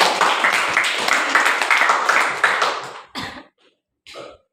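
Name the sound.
classroom applause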